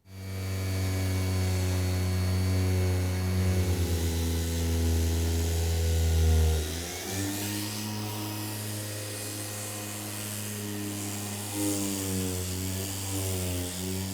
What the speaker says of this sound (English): This is a fairly aggressive sander. I want to smooth everything off, and I want to sand off the finish that was on this one plank right here.